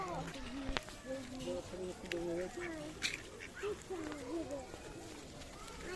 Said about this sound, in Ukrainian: Там гуси живуть, качки